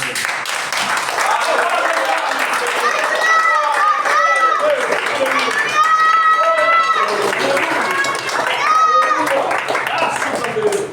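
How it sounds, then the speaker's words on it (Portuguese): A church congregation at a service applauds together, sustained clapping filling the room while voices call out and speak over it. "Vamos aplaudir Jesus."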